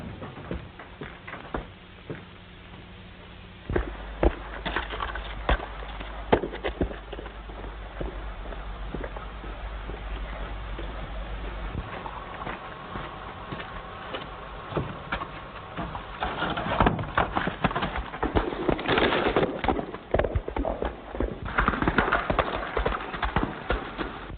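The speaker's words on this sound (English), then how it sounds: "I'm going to ride that horse right now." Horse hooves clip-clop in uneven, overlapping strikes as the animal is ridden, with a low engine-like hum in the background for a stretch and the clatter growing busier and louder toward the end.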